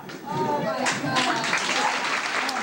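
Audience applause at a SoHo Playhouse theatre performance: dense, steady clapping from a crowd that swells after a brief quiet start and holds at a constant level, with voices mixed into the noise.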